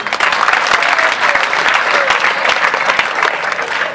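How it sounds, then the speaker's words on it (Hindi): A group of children in a classroom session on police and helmet safety claps together in loud, steady applause that lasts the whole stretch, with dense overlapping hand claps. "ताली बजाओ इसके लिए"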